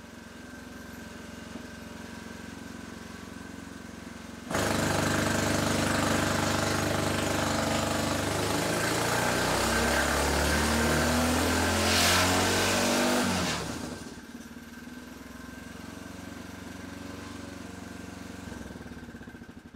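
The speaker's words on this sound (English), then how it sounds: "So I'll fire the engine up." An engine running on a homemade dyno roars loudly at steady high revs for several seconds over a background hum, then cuts back to a lower running drone.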